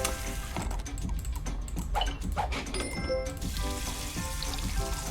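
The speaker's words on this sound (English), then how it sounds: "Sorry if the clicking's a bit annoying, but" Dense, rapid mouse clicking during play of the food-serving game Burger Shop, close and busy over continuous game music, with a brief pause midway before the clicking resumes.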